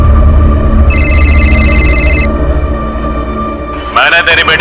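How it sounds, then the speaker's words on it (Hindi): A telephone rings with a repeating electronic tone in a home, bursts of ringing over a low rumble with a voice speaking alongside. "पापा आपका फोन बज रहा है, नंबर सेव नहीं है।"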